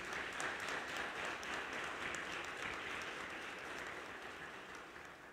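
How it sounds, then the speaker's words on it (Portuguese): Audience at a diocesan catechesis gathering in Araçatuba applauding, a dense, continuous wash of many hands clapping, faint and distant, fading slightly toward the end without any speech over it. "uma bonita salva de palmas"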